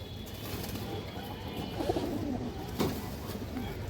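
A red-barred hen pigeon of an old breed coos softly a couple of times against a steady background hum, fairly close, with no talking.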